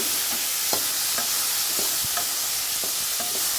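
Chopped tomatoes land in hot oil for a turkey berry (sundakkai) curry, giving a steady, close sizzling hiss punctuated by repeated light scraping stirs of a spoon in the pan, with no talking.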